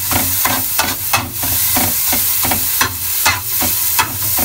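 Onions fry in a pan, a loud close sizzle punctuated by regular scraping strokes of a spatula stirring them, roughly one every half second.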